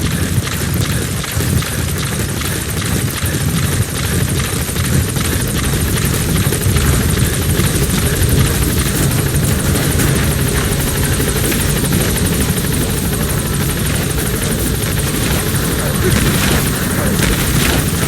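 A support helicopter in Metal Gear Solid V: The Phantom Pain roars steadily up close, its rotor thump and turbine whine filling the air without letup.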